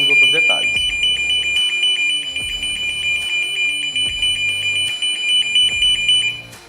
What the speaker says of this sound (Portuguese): Vou silenciar o alarme e silenciar aqui o buzzer também